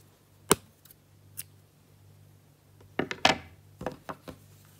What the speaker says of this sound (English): I'm now going to cut my yarn.